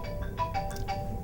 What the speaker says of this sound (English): That's my phone there